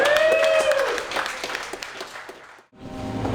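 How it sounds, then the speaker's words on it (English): An audience at a live improv comedy show applauds with loud scattered claps and cheering. The applause fades out, and a short gap follows before murmuring resumes. "Clap it up for them."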